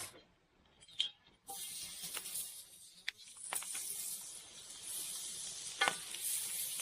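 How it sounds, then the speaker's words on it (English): Ribs sizzle in hot oil in a frying pan over a campfire in the winter taiga, starting after a quiet moment and then becoming a steady hiss broken by sharp pops and crackles. "The oil is starting to heat up and sizzle."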